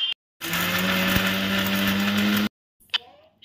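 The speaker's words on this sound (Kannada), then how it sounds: "ಚಕ್ಕೆ, ಲವಂಗ, ಏಲಕ್ಕಿ ಮತ್ತು ಗಸಗಸೆ ಅದನ್ನು ಹಾಕೊಂಡು ಗ್ರೈಂಡ್ ಮಾಡ್ಕೋಬೇಕು." A kitchen mixer grinder whirs as it grinds cinnamon, cloves, cardamom and poppy seeds for Hyderabadi chicken dum biryani, a loud, steady, high-pitched motor whine lasting about two seconds, then cutting off, followed by a faint clatter.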